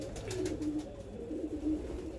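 Soft, low pigeon coos repeat in a gentle rolling rhythm, close by, over a steady background murmur with no talking.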